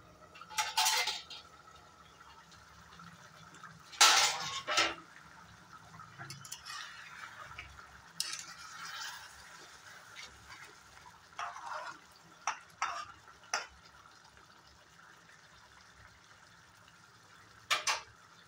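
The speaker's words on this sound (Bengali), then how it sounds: "ঢাকনাটা তুলে দেখে নেব।" Lid lifted off a pot of fish curry cooking on a gas stove, with a few sharp metallic clinks and scrapes spread among quieter kitchen clatter, close and moderately loud, no talking.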